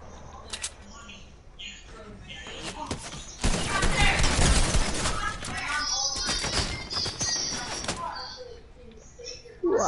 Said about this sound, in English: They keep shooting.